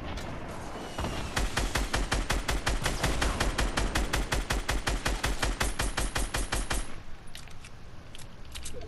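A weapon in the Fortnite video game fires a fast, evenly spaced run of loud shots for several seconds, then the firing stops and quieter ambience remains.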